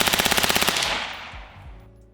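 A rifle with a forced reset trigger fires a fast, evenly spaced burst of roughly a dozen loud shots, then the report fades into a long, rolling outdoor echo.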